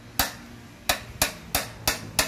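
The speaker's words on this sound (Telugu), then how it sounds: "చిన్న సుత్తితో ట్యాప్ చేయండి." A small hammer taps the side of a universal joint cross six times in an uneven rhythm. Each blow is a crisp, close metallic knock with a short ring, and no one speaks.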